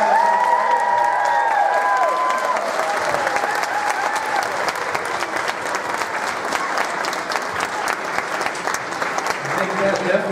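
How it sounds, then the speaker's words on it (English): After a children's Valentine's Day performance, a crowd applauds loudly and continuously, with cheering and a few raised voices mixed in over the steady clapping throughout. "Give one more big round of applause."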